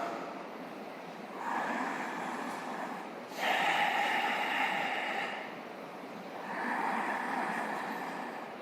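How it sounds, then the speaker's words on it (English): Slow, deep yoga breaths at the start of a morning Ashtanga session, three long airy exhalations and inhalations in a quiet room, close and soft, with no talking. "Breathe in and breathe out."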